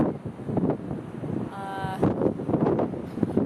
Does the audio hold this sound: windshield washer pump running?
no